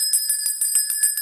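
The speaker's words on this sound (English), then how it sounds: "we ring the money manifestation bell on this channel" A small hand bell rings rapidly, about eight bright metallic strikes in quick succession with lingering high ringing tones, close and alone.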